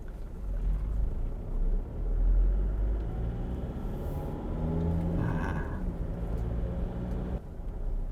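A 2012 Toyota Innova 2.5 diesel engine (2KD-FTV, manual) idles and rumbles steadily, with a deep low drone that swells slightly at times before cutting off near the end.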